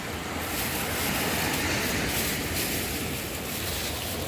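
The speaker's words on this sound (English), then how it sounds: "The water's rushing over me." Seawater rushing and swirling around a wader's legs at the Sanibel Island shore in Florida, a continuous close hiss with steady rolling surf and a little wind.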